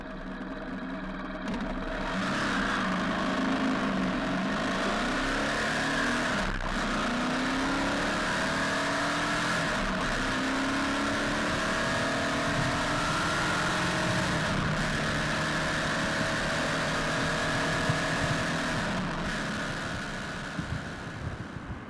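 A motorcycle engine hums steadily while riding, revving and shifting in smooth rises and falls with constant wind rush, close and continuous for the whole stretch with no talking.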